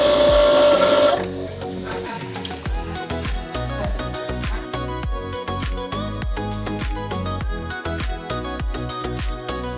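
Union C5 collarette sewing machine stitching with a single threaded needle, a fast steady mechanical clatter running for several seconds after a brief lead-in, loud and close with no voices.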